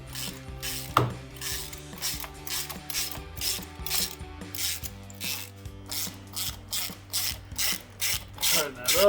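A ratchet wrench tightens an 11mm bolt while a cold air intake is fitted to a Dodge Challenger. It gives rapid, crisp clicking strokes in a steady repeating rhythm, close and clear over soft background music.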